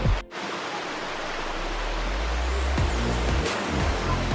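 Water gushing out from under a rock in a natural outdoor spot, a loud, steady, broadband rush close by, with a brief dip at the start and a few handling thumps near the end.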